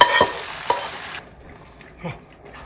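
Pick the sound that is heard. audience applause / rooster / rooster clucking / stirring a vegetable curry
stirring a vegetable curry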